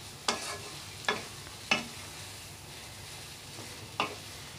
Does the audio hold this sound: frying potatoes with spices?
yes